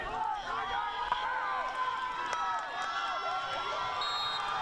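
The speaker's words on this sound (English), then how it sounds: "You can hear the Quinter crowd getting into it right here, getting real loud with it." Home crowd at a Quinter High School varsity football game shouting and cheering, heard fairly distant and fluctuating under the crowd noise, with a few scattered shouts rising throughout.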